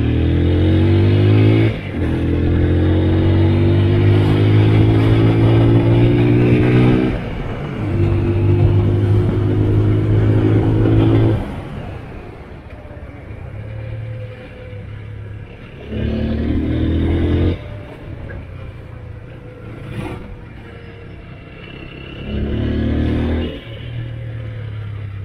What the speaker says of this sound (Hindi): यहाँ पे हम देखें फुल थ्रॉटल सेकंड गियर